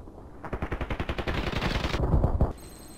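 A rapid string of close gunshots from a custom RPKT in the video game Contract Wars, about twenty evenly spaced shots in quick rhythm, then a short denser burst before cutting off.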